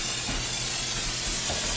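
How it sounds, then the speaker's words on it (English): Olive oil sprays into a pan in one steady, close hiss that keeps going for almost two seconds and then cuts off. "I'm going to spray some olive oil into my pan."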